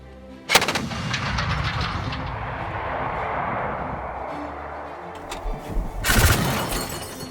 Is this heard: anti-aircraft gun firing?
yes